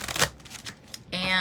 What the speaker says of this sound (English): The cards are small. They're easy for me to shuffle.